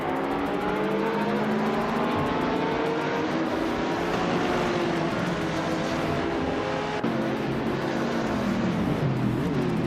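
Race cars including a classic 2022 Morgan Aero 8 GT2 launch at the start of a game race at Calafate, a dense, loud wall of engines revving and climbing in pitch together, sustained throughout with gear-change dips and no talk.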